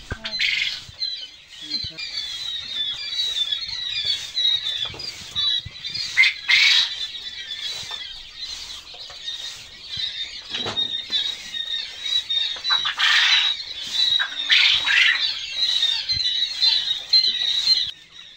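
A dense chorus of caged quail squawking and chirping nonstop, many birds calling over one another at close range with no pauses.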